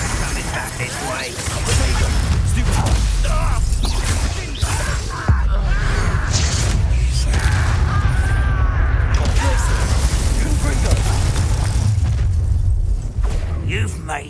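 In Hogwarts Legacy, a Confringo blasting curse lets out a booming explosion with crackling bursts. Continuous mechanical rumble and combat noise surround it, and the whole scene stays loud.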